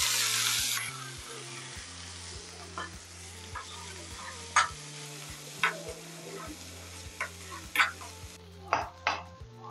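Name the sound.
frying whole wheat pasta and sweet corn in coconut oil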